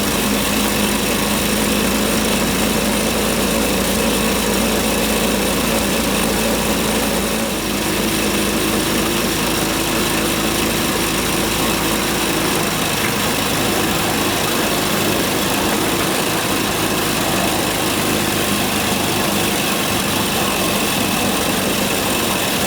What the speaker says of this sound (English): it's time to fire up the petrol engine and go for a test run around the line